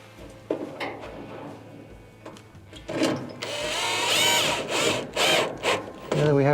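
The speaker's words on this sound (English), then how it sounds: "With our first screw started, just screw that in" A screw being driven by hand into the door switch of a Whirlpool dryer that will not power on, with scattered scrapes and clicks building into louder, sustained grinding and rubbing noises, close up and without speech.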